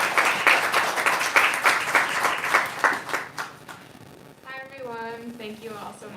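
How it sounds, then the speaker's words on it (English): Audience applause at a bookstore author event, a steady wash of many hands clapping for several seconds that thins out and gives way to someone speaking. "Let's give her a big round of applause."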